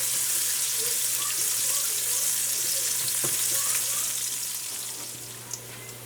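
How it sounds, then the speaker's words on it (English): Aromatics sautéing in a pan for curried conch, a soft continuous sizzle with faint stirring and a trickle of water, fading slightly toward the end, no talk. "we're going to go in with those aromatics and allow it to saute until nice, tender and light brown in color"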